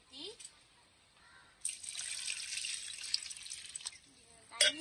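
Water splashes and trickles steadily into a container of tamarind for soaking, fairly quiet, with faint clinks at the start and end.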